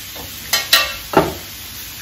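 Vegetables cook in a pan while a utensil stirs them, giving a few soft scraping clinks over a low, steady sizzle, close and fairly quiet.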